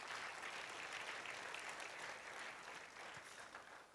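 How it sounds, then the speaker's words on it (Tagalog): A church congregation claps together in strong, dense applause, a fairly distant-sounding roomful of hands that holds steady and tapers slightly at the end. "Isang malakas na palakpak kay Lord."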